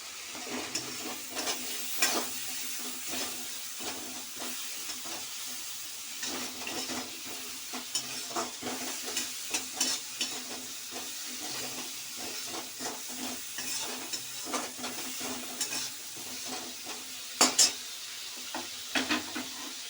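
Chopped tomato sizzling in hot oil for dhaba-style egg tadka, with steady frying hiss and repeated scraping stirs of a spatula against the pan, close and continuous with occasional sharper clinks near the end.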